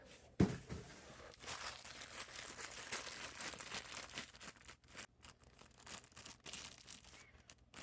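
Small hardware, four bolts and four washers, tumbling out of the box of a Marshalltown 48-inch magnesium bull float, a sharp metallic clink near the start, then soft rustling and handling noise.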